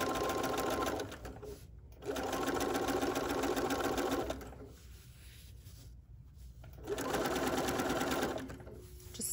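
A sewing machine stitches binding on a fabric needle book, running in three steady whirring bursts with short quiet pauses between, close and loud, with no talk over it.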